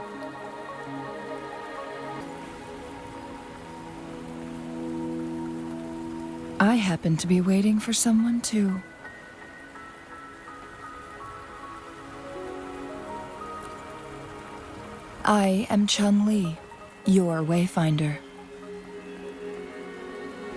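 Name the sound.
rain falling in Wuthering Waves video game cutscene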